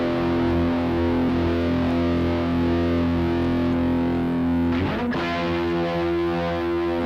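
Heavily overdriven electric guitar, run through several overdrive pedals, rings out in sustained distorted chords at steady loudness, with a brief noisy strum or pick scrape near the end before the chord continues.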